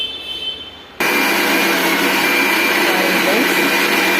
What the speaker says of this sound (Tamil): இப்போ வந்து நான் மிக்சி போட போகிறேன்